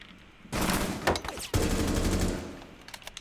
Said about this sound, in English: Bullets coming in